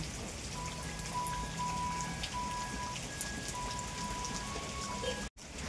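Heavy rain pours steadily on surfaces, a dense unbroken patter with faint tonal hum in the background, then a brief dropout near the end; no one speaks.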